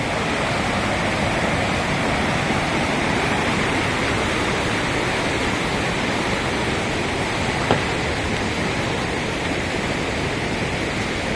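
A waterfall in Attapeu, Laos, heard from the top of the falls, roars as a steady, loud, dense wash of water that holds constant from start to finish with no voices.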